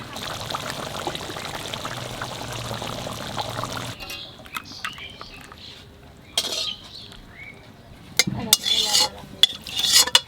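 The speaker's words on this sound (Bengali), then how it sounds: "মাছ হয়ে গেছে, এখন একটু কাঁচা সর্ষের তেল দিয়ে নামিয়ে দেবো।" Raw mustard oil is poured over cooked hilsa fish in a pan, a soft close trickle at first, followed by scattered utensil clinks and clatter of kitchenware.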